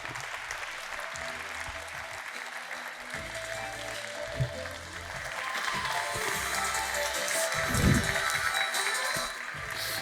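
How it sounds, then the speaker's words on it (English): A large conference audience gives massive applause to welcome a speaker to the stage, dense sustained clapping that swells toward the end, with a few louder thumps or cheers mixed in. "Please welcome with me, with a massive applause, Spryker's Alexander Graf."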